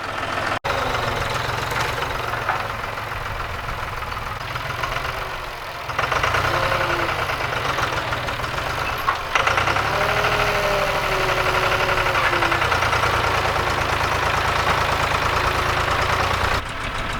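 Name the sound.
tractor engine running while scooping hay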